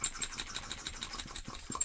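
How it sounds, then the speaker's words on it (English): A hand vacuum pump is worked in quick repeated strokes to pull a vacuum on an ink test, giving a rapid, rhythmic scratchy rasp up close with no voices. "Now we just have to create the vacuum to simulate the pressure differential inside an airplane."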